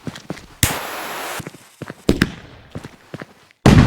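A Blue Velvet firework goes off in a PC fireworks simulator game for Diwali: a long crackling burst, then several sharp pops and a final loud blast, with quieter clicks in between.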